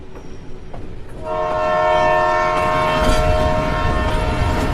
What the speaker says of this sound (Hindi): ट्रेन फुल स्पीड से हॉर्न बजाती हुई आगे बढ़ रही।